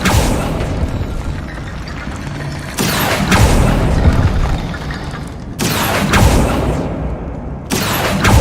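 Spell effects in the game Hogwarts Legacy, including Accio, come as dense booming blasts and rumbling bursts, one swelling after another in a loud continuous barrage with no talk.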